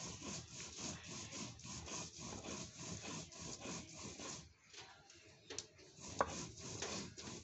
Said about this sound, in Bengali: দেখতেই পাচ্ছ বন্ধুরা, মরিচটা বাটা হয়ে যাচ্ছে আর একটু একটু মুছে মুছে দিচ্ছি